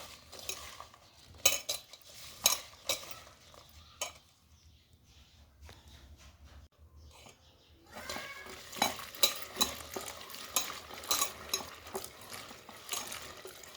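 Turkey berries being mixed with salt by hand in a bowl: quiet, close rustling and clicking of small berries, in bursts with a brief lull, then busier stirring and rattling.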